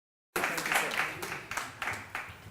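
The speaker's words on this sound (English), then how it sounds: "A round of applause as I give him a notebook again." A conference audience applauds a quiz winner at a technology expo; after a brief silence, moderately loud clapping rises and continues in uneven waves with a few sharper accents.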